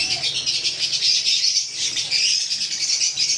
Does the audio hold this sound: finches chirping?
yes